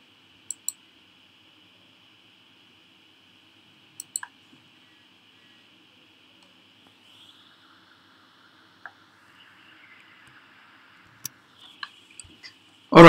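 A computer mouse clicks sparsely and sharply, single and double clicks spaced out over a quiet background with a faint steady hum.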